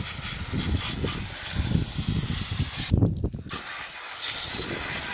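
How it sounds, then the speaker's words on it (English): A jet spray from a hose nozzle blasts a degreased dirtbike engine, a loud, rough, continuous hissing spatter with a brief cut-off near the end before it resumes, close up and without talk. "And then just spray the whole thing down."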